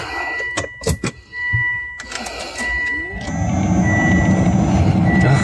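A car's replacement blower motor switched on for a test, spinning up into a steady, fairly loud whooshing rush of air that fills the cabin after a few clicks and brief tones.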